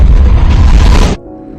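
Fireworks boom in a film scene as a girl watches from a rooftop: a loud, dense burst of deep rumbling explosions for about a second, then an abrupt cut to quiet with faint tonal sound.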